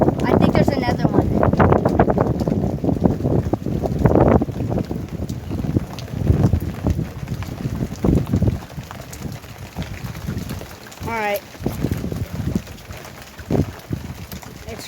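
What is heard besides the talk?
strong wind during a hail storm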